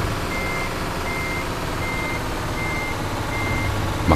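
Truck reversing alarm from Euro Truck Simulator 2 while backing a trailer: steady, evenly spaced beeps repeating over a constant low engine rumble, moderately loud throughout.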